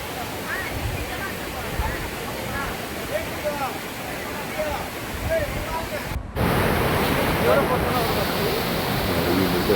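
Sinnakallar waterfall rushing in a constant loud roar of heavy falling water, broad and unbroken, with a voice talking over it and a brief cut before the roar resumes slightly louder.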